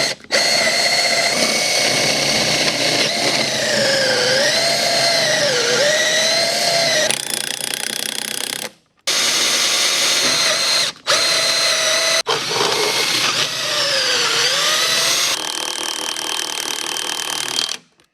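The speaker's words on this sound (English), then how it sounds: "Just got to get those holes drilled in the hull and bolt it down the rest of the way." A power drill bores holes through a boat hull during an outboard motor swap, a loud steady whine that rises and dips in pitch under load, stopping briefly twice before running on.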